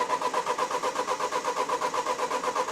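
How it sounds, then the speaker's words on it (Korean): An Audi A4 engine cranks but fails to start, with the starter giving a steady rhythmic churning of about five beats per second, close and continuous throughout, with no speech. "시동 한번 걸어볼게요."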